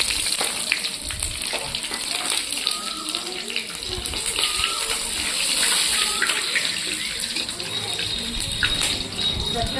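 Whole spices, bay leaf, cumin and cloves sizzle in hot oil in a steady, close hiss that runs throughout, while a person talks over it.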